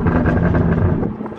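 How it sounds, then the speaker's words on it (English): Toyota Supra with an EcuTek tune burbling and crackling on a downshift, a dense low rumbling exhaust rattle, close and loud, fading slightly at the end. "let's give it a downshift. The burbles are a little bit louder."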